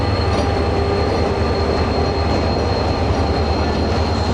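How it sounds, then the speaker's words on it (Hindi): Shah Latif Express train arriving at Mirpur Khas station, a loud continuous close rumble of wheels on rails with a faint steady squeal throughout. "शाह लतीफ़ एक्सप्रेस कराची से चल के मीरपुर ख़ास पहुंच रही है"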